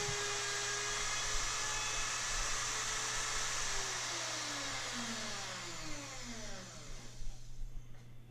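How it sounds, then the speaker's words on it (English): A router fitted with a round-over bit trims the rough top and bottom edges of a wooden cornhole board, a loud steady high whine that slowly drops in pitch as the cut bites, ending in rougher bursts. "I use my router with a round over bit just to take off the rough edges"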